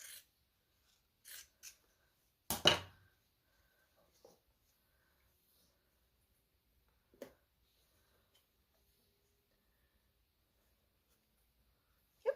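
Material is cut while worn-out clogs are upcycled into patchwork, heard as a few sparse, close snips and crisp cuts separated by long quiet gaps.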